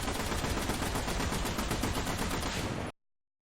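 Dense, continuous heavy tank gunfire in War Thunder roars for about three seconds in a rapid rattling burst, loud and close, then cuts off abruptly to silence.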